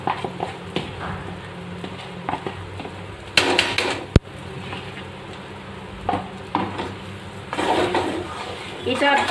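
Moong dal paste goes into browned semolina in a pan over a low flame, bringing soft scraping, clattering utensil knocks and brief sizzles while someone speaks intermittently.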